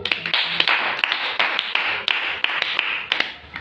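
A church congregation at a prayer service claps for Jesus, filling the room with dense, rapid applause from many hands, steady and loud with sharp slaps standing out throughout.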